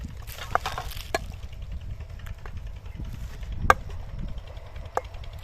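Boiled potatoes mashed by hand for Bengali aloo chop, making close, soft squishing and pressing sounds with a few sharper taps, fairly steady over a low background rumble.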